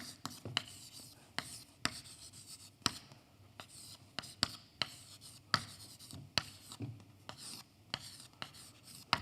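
Writing on a board during a mathematics lecture: a string of sharp, irregular tapping strokes and scratches across about nine seconds, close and fairly faint, with soft speech in the background.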